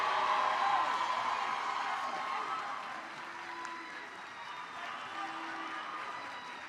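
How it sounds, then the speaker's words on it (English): Applause and crowd noise fill a high school graduation ceremony for Kent County High School's class of 2026, a steady mass of clapping that swells early and then holds at a moderate level. "Let's give another round of applause for our class of 2026."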